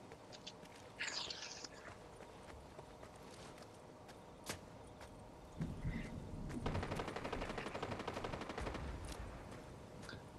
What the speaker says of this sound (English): There's people shooting all directions.